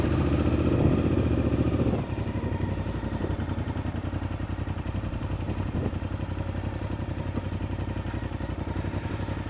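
A motorcycle engine idles close by with a steady, fast mechanical chug and clatter that runs unbroken, slightly louder for the first two seconds before settling into an even rhythm.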